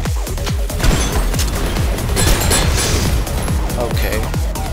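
Rapid, overlapping gunfire bursts from the co-op shooter game Synthetik, with K98 rifle shots among them, loud and dense, crackling continuously with booming impacts throughout.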